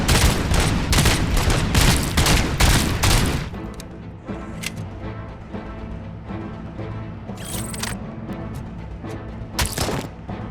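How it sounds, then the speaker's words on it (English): An AK rifle fired in the Robocop Rogue City game. Loud rapid automatic bursts rattle for about three seconds, then give way to quieter game ambience with a few scattered shots later. "Robocop with an AK."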